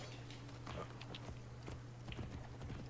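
Faint, irregular horse hoofbeats clop along at a walking pace over a steady low hum, with soft ambience from Assassin's Creed: Origins and no talking.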